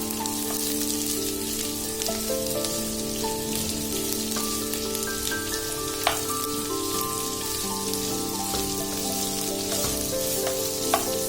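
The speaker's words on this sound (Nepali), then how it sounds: "अब यसमा प्याज हालौँ। प्याजलाई मजाले चलाउनु पर्यो।" Chopped onions sizzle steadily in hot oil in a pan while cooking a spicy Nepali-style buffalo gravy, with occasional sharp clinks from stirring and soft music underneath.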